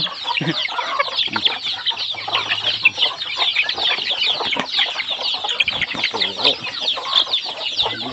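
Flock of farm chickens being fed chopped Napier grass mixed with feed, clucking and squawking continuously at close range, a dense busy chatter of many birds with faint voices underneath.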